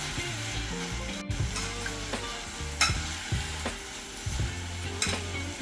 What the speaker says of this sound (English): So we are sauteing our natural season.